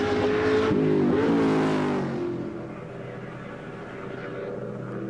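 A touring race car engine passes on a track at Conrod Straight: a loud, high engine note rises and sweeps past in the first two seconds, then fades into a lower, more distant drone.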